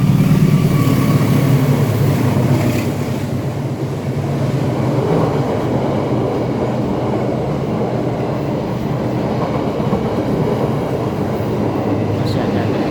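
A continuous low rumble and clatter of a train running on rails, steady and fairly loud throughout, with a faint voice underneath at times.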